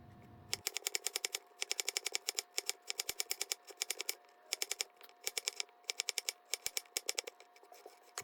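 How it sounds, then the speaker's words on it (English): A knife slices a quartered red onion into thin slices with fast, crisp taps on a board, coming in quick bursts separated by short pauses. "We are going to start things off by quartering a red onion and cutting it into thin slices."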